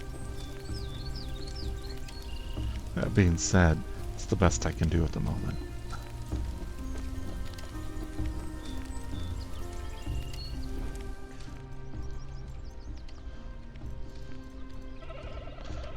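Steady rain patters across a game world in Soulmask while a horse whinnies and its hooves clip-clop nearby, with someone talking over the rain part of the time.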